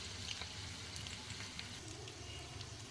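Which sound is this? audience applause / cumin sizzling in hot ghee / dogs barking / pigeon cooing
cumin sizzling in hot ghee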